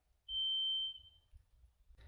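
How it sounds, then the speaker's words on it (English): A water level meter lowered down a well gives one clear, high electronic beep lasting just over half a second as its probe touches the water, followed by faint low rumbling. "this tool is designed that when it hits water, it will beep"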